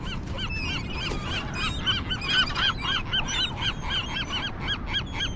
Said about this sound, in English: Do you hear them, Sven? You hear the seagulls?